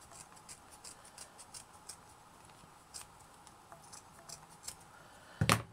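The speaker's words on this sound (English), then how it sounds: "Now, I'm just going to trim mine, if my scissors will allow." Scissors trimming ribbon ends for a handmade ribbon appliqué, heard as a string of faint, close, crisp snips and ticks at irregular intervals, ending in a louder sharp cut.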